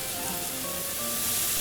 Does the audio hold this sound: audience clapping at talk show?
no